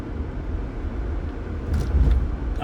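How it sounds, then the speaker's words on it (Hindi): Car air conditioning fan turned up inside a moving car, a loud steady blowing rumble mixed with road noise that swells slightly partway through, with no talk. "चलो एसी बढ़ा दिया, सॉरी।"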